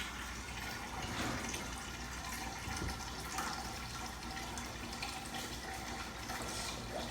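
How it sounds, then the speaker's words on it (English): Water from a kitchen tap runs steadily into a cooking pot, a constant rushing fill sound, fairly quiet and unbroken throughout. "So I'm gonna just fill up my pot."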